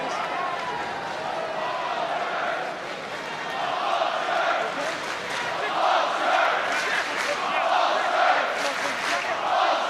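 Rugby crowd at a rain-soaked Ulster versus Cardiff Blues match roaring behind their side, a broad sustained swell of cheering and chanting that builds and stays loud, with commentary voices over it.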